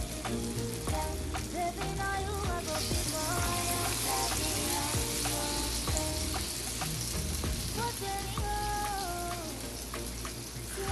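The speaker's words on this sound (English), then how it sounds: "my oil is well heated now, so I'll start putting my mixture inside the frying pan bit by bit" Bean batter for akara (bean cakes) sizzling and crackling in hot oil in a frying pan, a dense continuous fry close up, with music playing over it.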